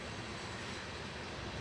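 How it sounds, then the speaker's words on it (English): A long CSX freight train passes on tracks in Ohio, producing a steady, dense roar of rolling wheels and rumbling cars that stays constant and close. "The sheer length of the freight train seen here can be appreciated in our opening sequence."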